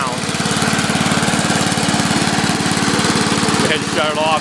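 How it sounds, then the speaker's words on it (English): 1988 Snapper 21405P walk-behind lawn mower engine running close and loud with a steady, rapid pulsing idle, then someone talks briefly over it near the end. "the engine does not have any knocking or any other abnormalities to the sound"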